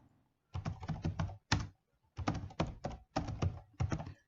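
Keys on a computer keyboard clack in quick bursts, with several short runs of typing separated by brief pauses and one louder key press, close and clear.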